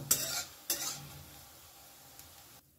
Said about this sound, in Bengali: অন্য বড়াগুলো আমি একে একে দিয়ে ভেজে নেব।